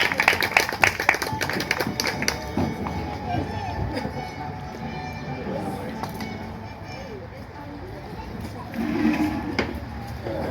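A class applauds student performers after their history presentation, with a brisk burst of clapping at first that thins out as voices talk over it.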